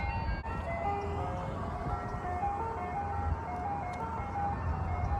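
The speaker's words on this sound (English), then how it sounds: "let me wait for this truck to go by first" An ice cream truck's tinkling jingle plays steadily over the rumble of a passing vehicle engine, loud and close throughout.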